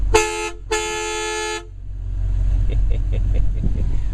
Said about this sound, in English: All that honking.